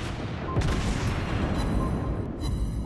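Naval gunfire and shell impacts against an enemy ship in the World of Warships Blitz naval combat game, heard as a dense, continuous roar of booming fire and explosions that fills the whole short stretch, with no talk.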